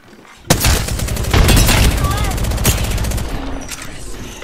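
A frag grenade bursts in a video game shooter as a sudden loud, close blast, followed by a steady stretch of rapid gunfire and a voice that can be heard under the noise.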